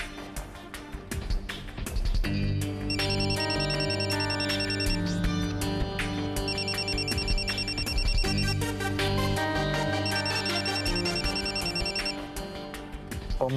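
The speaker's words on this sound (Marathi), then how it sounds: "मम्मीजींचा फोन." A mobile phone rings with a repeating electronic ringtone melody, bursts of bright chiming tones recurring about every four seconds over a steady musical background, fairly loud and close, with no talking.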